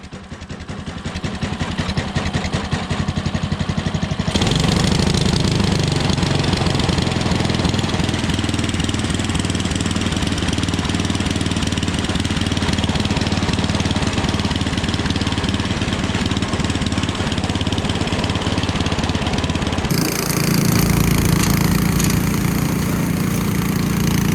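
A John Deere 332 skid steer's engine runs under heavy load while plowing snow at -30°C, a loud, continuous mechanical drone that holds steady for the full stretch, with a shift in tone near the end.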